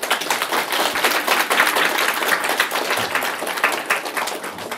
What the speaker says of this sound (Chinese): 哦，哎我们掌声感谢一下啊